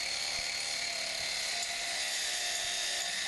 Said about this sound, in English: Another option is the miter saw with an abrasive cutoff wheel on